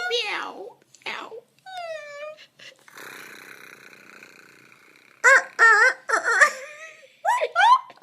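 A person's voice imitates a cat meowing, giving a string of high, wavering meows with breathy, whispery stretches in between; the calls are close and loud, some drawn out and some short.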